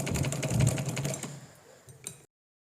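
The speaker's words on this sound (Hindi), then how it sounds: "साइड का जो कपड़ा है एक्स्ट्रा काटा था उसको अंदर की तरफ फोल्ड करते हुए सिलाई लगाऊंगी।" A sewing machine stitches along folded-in edges of fabric, a steady rapid mechanical rattle that slows and thins out before a final short burst and abrupt stop.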